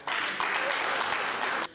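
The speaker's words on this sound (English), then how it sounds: "You can clap for that." An audience claps together in a sustained burst of applause at a community gathering for a registered members' association, dense and steady for over a second before stopping abruptly.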